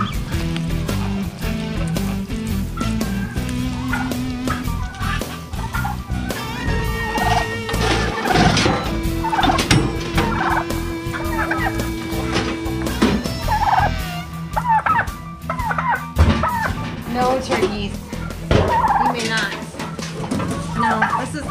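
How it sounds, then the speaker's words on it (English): A flock of farm turkeys gobbles loudly and repeatedly at close range around feeding time, overlapping calls rising and falling continuously over steady background noise. "the turkeys always try to push their way in here and help themselves to whatever they like"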